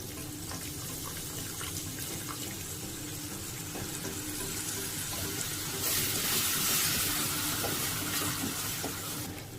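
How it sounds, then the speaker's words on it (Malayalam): Vinegar is poured into a pan of prawn pickle cooked with chilli powder, making a continuous close hissing, sizzling wash that swells louder toward the end. "ഇനി നമുക്ക് ഇതിനകത്തോട്ട് വിനാഗിരി ചേർത്ത് കൊടുക്കാം."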